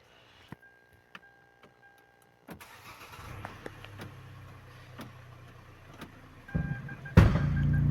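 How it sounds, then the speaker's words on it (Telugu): A car with a cut gearbox mounting and a loose bolt knocks while reversing: sharp, irregular clunks and ticks over a low engine idle, growing louder and heavier toward the end, with no talk. "కింద గేర్ బాక్స్ బెడ్డింగ్ చూడండి రివర్స్ చేస్తా ఎట్లా గడ్డి గడ్డ అని సౌండ్ వస్తుంది"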